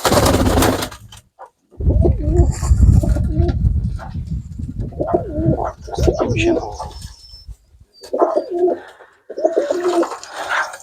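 Pigeons coo in low, repeated throaty phrases close by, with pauses between calls and some background noise.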